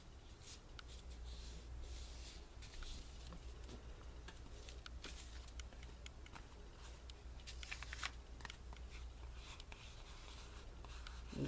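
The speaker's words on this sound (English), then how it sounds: "And now I'll fold the sides over. And press that down." Thin copy paper is folded and pressed down for a handmade book cover, giving a steady close rustle and scraping with light crinkles throughout.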